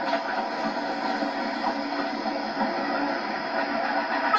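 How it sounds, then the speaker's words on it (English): A steam train moves along the line with a steady, continuous rolling rumble and faint mechanical rattle, heard alone at an even level throughout. "And with that, Stepney puffed away."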